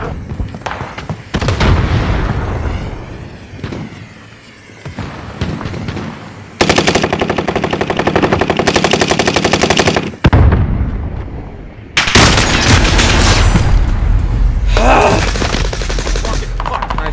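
A Whitley light machine gun firing in a shooter video game, loud sustained bursts of rapid automatic fire with gaps between them and explosive booms in the battle.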